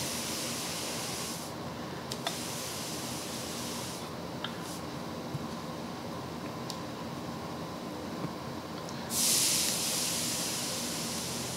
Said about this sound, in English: put a damp rag here and a hot iron, and we're going to steam it